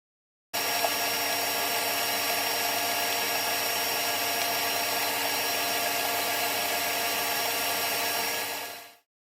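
A stand mixer whisks Swiss meringue buttercream with a steady, dense whirring drone that holds evenly for about eight seconds before cutting off, and nobody speaks over it.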